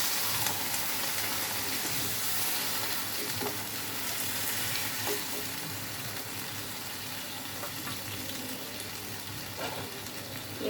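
Water is poured over fried potatoes in a pan for a small-fish and tomato curry. A steady, close hiss and sizzle continues throughout, broken by occasional scraping stirs, with no voices.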